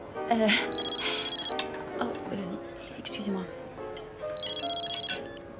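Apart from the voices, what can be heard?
telephone ringing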